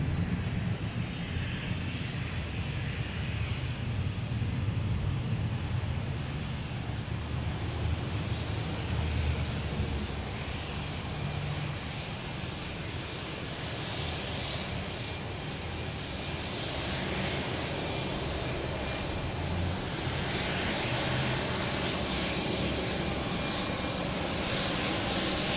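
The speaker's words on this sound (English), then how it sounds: "I have a Delta E175 coming in from Pittsburgh" Delta Embraer E175 regional jet arriving at Boston Logan Airport, a steady broadband engine roar that holds for the whole stretch, fairly loud and even, with wind and airport background mixed in and no talking.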